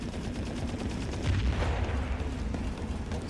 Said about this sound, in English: I'm hearing some explosions now.